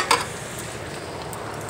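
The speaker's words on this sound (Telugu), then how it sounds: "కరివేపాకు, అల్లం పేస్ట్ వేసుకొని కలుపుకుంటున్నాను లైట్గా." Curry leaves and ginger paste stirred in a pan for a gongura dried-fish curry, a short scrape near the start followed by a soft, steady sizzle.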